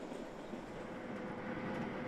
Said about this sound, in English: the train crosses the longest bridge, almost 100 meters long